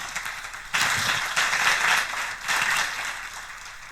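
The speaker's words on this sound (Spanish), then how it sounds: "Un fuerte aplauso." An audience at a talk breaks into applause for a speaker, dense clapping that rises in a few waves and stays moderately loud throughout.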